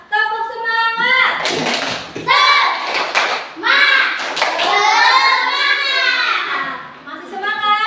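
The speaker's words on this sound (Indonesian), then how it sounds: "Coba Ibu minta tepuk semangat" Primary school children in a classroom loudly chant a rhythmic clapping cheer, with bursts of hand claps punctuating their shouted, sing-song voices in several quick phrases.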